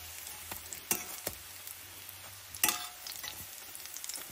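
Malunggay, carrot and shrimp okoy fritters frying in oil, a steady close sizzle broken by occasional sharp pops and spatters, with no talking.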